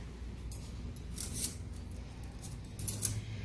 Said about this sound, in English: These are called operating room scissors.